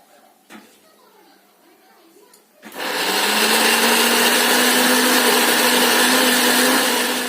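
An electric blender roars to life after a few seconds of near silence and grinds steadily at full power, loud and close, blending a paste with ginger and a green chilli.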